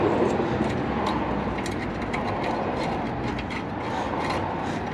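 A spring-loaded exhaust bolt is tightened on a Honda Element to fix an exhaust leak, giving a steady run of close, rapid ratcheting clicks over constant mechanical rumble.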